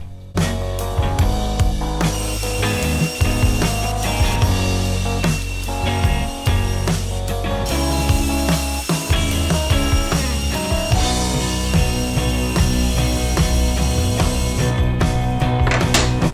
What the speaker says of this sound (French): Et je vais donc faire ça à la scie à ruban.